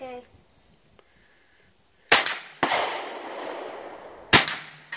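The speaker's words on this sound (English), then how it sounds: "Shoot the big plates down." Three sharp gunshots aimed at big steel plates crack out loud and close, spaced apart, each followed by a ringing decay, with a brief voice at the start.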